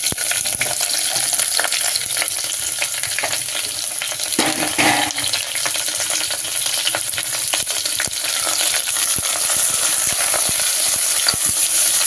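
Chopped onions go into a hot pan with garlic for a Tamil drumstick leaf gravy and are stirred, producing a loud continuous sizzle with frequent quick scraping ticks.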